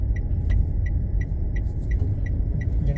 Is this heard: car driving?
yes